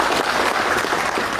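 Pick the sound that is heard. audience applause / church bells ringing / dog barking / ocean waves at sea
audience applause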